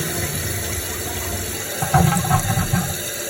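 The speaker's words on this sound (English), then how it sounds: "let's do a full flush just to see where it'll go" A toilet under repair, refitted with thrift store parts, flushed on full: steady rushing water and hiss, swelling into louder gurgling surges toward the end, close by and with no voices.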